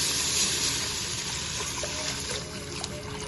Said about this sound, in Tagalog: Lalagyan na po natin siya ngayon ng tubig.